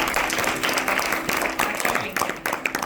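A concert audience applauds after a performance of Purandara Dasa keertanas, dense clapping with uneven bursts throughout, mixed with some voices.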